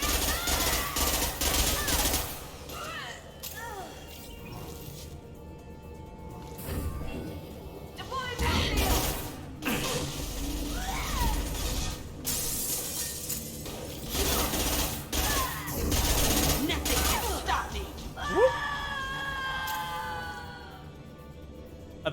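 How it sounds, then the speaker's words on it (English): Bursts of sci-fi gunfire from a Mass Effect 2 firefight, with repeated loud shots and mechanical clatter spread across the scene, under and between bouts of speech. "Stop shooting, Shepard!"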